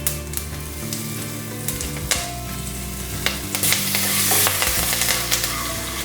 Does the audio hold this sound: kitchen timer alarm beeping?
no